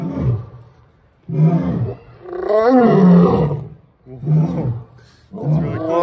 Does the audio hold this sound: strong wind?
no